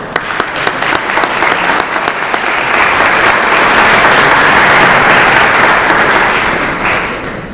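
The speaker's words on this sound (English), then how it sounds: "So let's give them a round of applause." Sustained applause from an audience at a ChildServ charity gathering, a dense wash of many hands clapping that swells, holds steady for several seconds, then eases off near the end.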